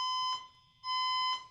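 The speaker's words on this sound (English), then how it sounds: "It would be a fire alarm." A fire alarm sounds in two loud bursts of a shrill, steady electronic tone, dropping briefly between them and then resuming with no talking.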